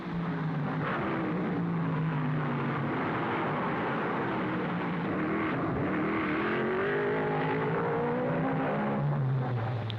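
Vintage race cars at the 1955 Monaco Grand Prix rounding the gasworks hairpin nose to tail, engines droning and shifting in pitch as they slow and accelerate through the bend, steady and moderately loud.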